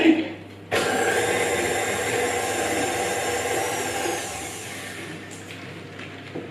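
An electric mixer creams butter and sugar for mini cakes, starting abruptly with a loud, steady whirring drone that holds for several seconds and then eases slightly near the end.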